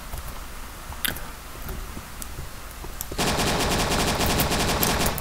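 Thompson submachine gun fire in the World War II dinosaur shooter Dino D-Day, scattered single cracks at first, then a sustained rapid automatic burst running steadily for the final two seconds.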